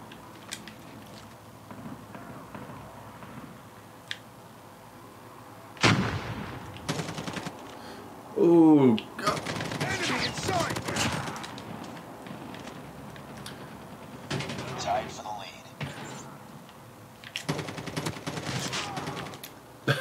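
Rapid bursts of gunfire and a grenade launcher in a Call of Duty VR match, loud, close and repeated in clusters with brief pauses between them, plus a mechanical whirring sweep partway through.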